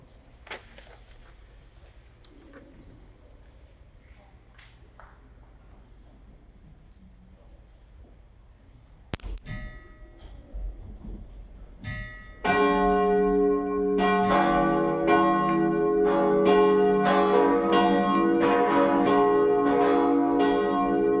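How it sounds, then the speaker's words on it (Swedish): A quiet, faint room sound gives way midway to loud, sustained cathedral bells pealing continuously for Palm Sunday high mass, their rich ringing tones overlapping and filling the space. "Låt oss nu lyssna på klockringningen."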